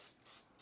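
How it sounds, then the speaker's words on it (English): Cooking spray from an aerosol can coats a wire rack set in a cookie sheet, three loud hissing bursts with brief pauses between them, close up and alone. "the first thing I'm doing here, cooking spray all over"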